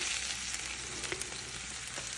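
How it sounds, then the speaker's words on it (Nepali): Onions frying in oil in a pan for a Nepali-style chicken gizzard and liver dish give a soft, crackling sizzle with a few small pops, quiet and close. "अनि त्यसपछि हालेँ मैले प्याज, मजाले भुट्छु प्याजलाई पहिला"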